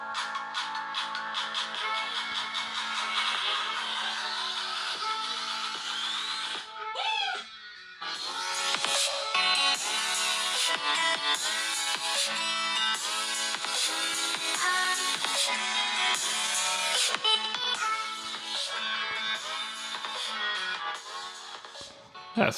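Ringtone melody played loudly through the bottom-mounted loudspeaker of a Samsung Galaxy A20e phone, continuous and bright for about twenty seconds, with a brief dip partway through and no talking over it.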